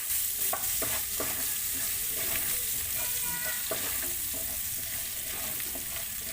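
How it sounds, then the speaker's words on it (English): Spice paste sautéing in a pan for fish biryani gives a steady, close sizzle, with occasional scraping stirs over it and no talking. "So we have to saute this."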